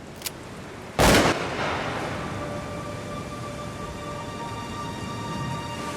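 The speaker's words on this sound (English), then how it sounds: "I heard a gunshot that was pretty close" A single sharp gunshot cracks loudly close by, followed by a rolling echo that fades slowly over steady outdoor background noise.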